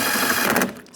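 A power driver spins bolts into a GMC Yukon door panel in one quick, whirring, buzzy burst, close and loud, trailing off at the end.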